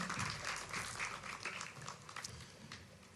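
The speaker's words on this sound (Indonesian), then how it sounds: "Boleh kasih tepuk tangan buat tim praise and worship kita." An audience at a church prayer fellowship claps for the praise and worship team, brisk scattered applause at moderate distance that thins toward the end.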